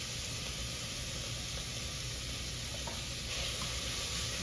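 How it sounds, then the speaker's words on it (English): Onions and garlic sizzle in hot olive oil in a saucepan, a steady, faint, even hiss with no talk. "So I'm ready to add the onions, the garlic, and this pan is pretty hot."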